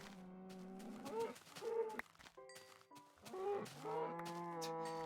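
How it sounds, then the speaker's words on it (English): Cows mooing in Minecraft, several long low moos that overlap and follow one another closely, loud and close, with no talk. "I also see a load of cows."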